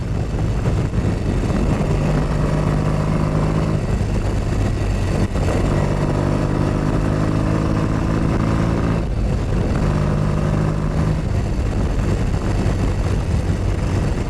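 A 1962 BSA Rocket Gold Star motorcycle rides steadily along old country A and B roads in Sussex, its engine note holding loud and close with rising and falling harmonic pitch as it shifts through gears, with constant wind and road noise.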